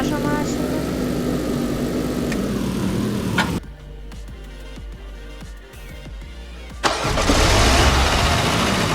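A car engine starts in the video game A Dusty Trip: a broadband rumble, then a dip and a loud surge as the motor catches, with game background noise throughout.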